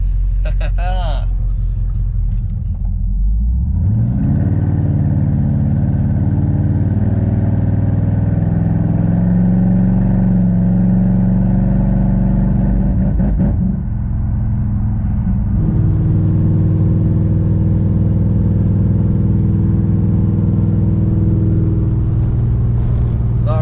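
A 1968 Dodge Charger with a swapped 5.7 Hemi and NAG1 transmission, running in limp mode while cruising, gives a loud steady engine rumble that rises as it pulls away and shifts, with someone talking over it.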